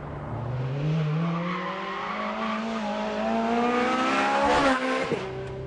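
Ferrari 430 Scuderia engine at Fiorano circuit: a loud, close, rising rev climbs steadily in pitch through one long pull toward the limiter, then drops sharply with a brief crackle at the end.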